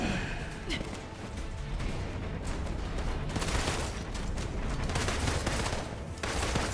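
Sustained automatic gunfire in Marvel's Avengers, loud and continuous for several seconds in dense rattling volleys, with a player's voice talking faintly underneath.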